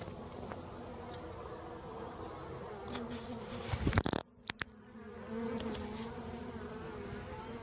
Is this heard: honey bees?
yes